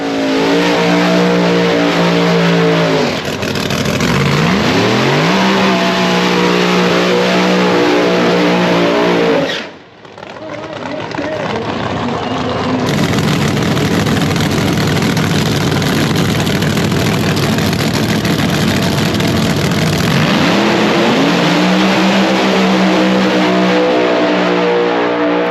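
Drag race car at Tulsa Raceway Park making a full pass, a loud, sustained engine roar with rising gear-change sweeps, a brief dip midway, then continuing hard under power, heard close and dominant throughout.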